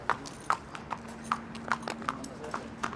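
A horse's hooves clip-clop at a slow, steady walk, about eight distinct strikes, fairly close, over a low background hum. The horse has lost a front shoe.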